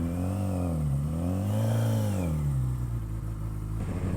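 A Kawasaki Z1R TC Turbo motorcycle engine revs up and down several times, a loud, close and raucous roar that rises and falls in pitch with a gritty mechanical edge.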